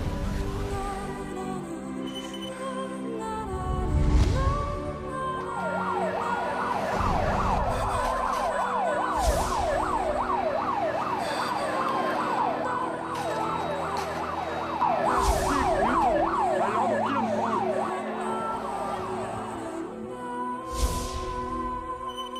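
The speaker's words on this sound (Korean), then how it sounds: "사고 현장은 연속적으로 울리는 사이렌과 비명 섞인 울음소리로 가득 찼습니다." Emergency sirens wail continuously at an accident scene, their rising and falling tones overlapping loudly and steadily for most of the stretch over a rumbling background, with no talking.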